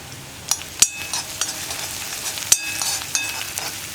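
Onion, garlic and curry leaves frying in a pan as part of a Kerala parippu thoran, giving a steady crackling sizzle with a few sharp pops and stirring clicks, close and continuous, no voices.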